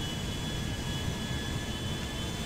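A giant Air France airliner in a pilot-life game mod runs its jet engines on a runway, a steady, even roar with a faint high whine, continuous and unbroken, with no talk.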